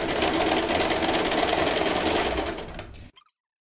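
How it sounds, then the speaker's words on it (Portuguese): A sewing machine runs a zigzag stitch to attach elastic to fabric for a lace-trimmed bra, a dense close mechanical whir that holds steady for about three seconds and then stops abruptly. "Vou dar uma leve pressão e costurar no zigue-zague. Eu tô usando na minha máquina o 5."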